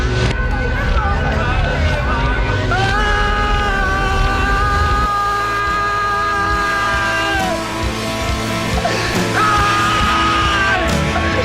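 A man screams loudly and at length, a harsh strained yell that wavers and breaks, with a rough, noisy background throughout.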